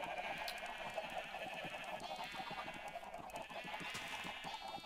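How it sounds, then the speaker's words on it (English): Sheep in the Minecraft video game bleat repeatedly at a moderate distance, several short wavering calls over a low, busy background, with no talk. "Sheep will go in there."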